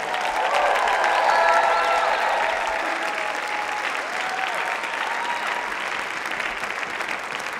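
Sustained audience applause following a community band's Star Wars medley performance, dense steady clapping from a large crowd throughout, slightly fading toward the end.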